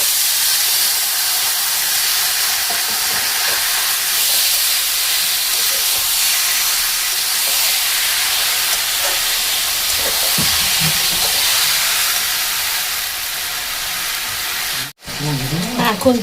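Cooked vegetables tipped into gram flour fried in a pan for a winter vegetable-stalk chorchori, producing a strong, continuous hissing sizzle that holds steady before a brief dip near the end.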